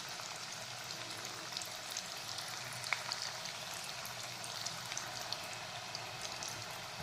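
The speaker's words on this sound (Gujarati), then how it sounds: "હવે આપણે આને જ્યાં સુધી લસણનું કચાશ ભાગી ના જાય ને ત્યાં સુધી એને શેકાવા દેવાનો" Garlic fries in oil for a mango pickle over a medium flame, giving a soft, steady sizzle with faint crackles and pops throughout, quiet and even, with no one talking.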